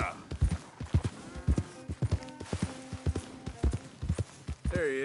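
Horse hooves clip-clop in Red Dead Redemption 2, a loud, close and steady rhythm of sharp knocks at a walking pace, with faint tonal game sounds under it and a brief whinny-like cry near the end.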